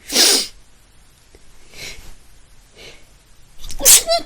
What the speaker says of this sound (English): Hold on, I sneeze.